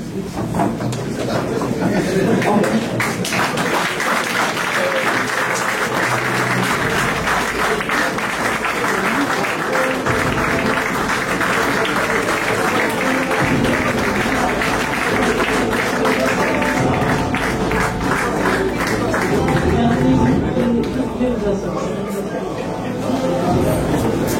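Sustained audience applause at a 2022 diploma ceremony, a large crowd clapping steadily and loudly throughout, with faint voices mixed in.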